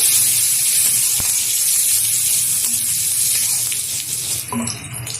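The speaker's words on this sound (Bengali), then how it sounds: "তেলটা গরম হয়ে গেছে, তেলের মধ্যে দিয়ে দিচ্ছি 1/2 চামচ হলুদ গুঁড়ো, দিয়ে দেবো টুকরো করে রাখা অর্ধেক টমেটো" Turmeric powder and tomato pieces hit hot mustard oil in a pan, giving a loud, steady hiss and sizzle that eases off slightly near the end.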